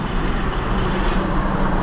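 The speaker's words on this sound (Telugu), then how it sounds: "తీసిండు బండి. వచ్చేసి KSRTC బస్సు స్కానియో వోల్వో." A KSRTC Scania Volvo coach pulling away on the Bangalore–Tirupati route, heard as a steady, loud low engine drone and road rumble throughout, with no talk.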